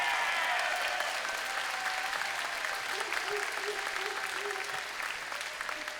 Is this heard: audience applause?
yes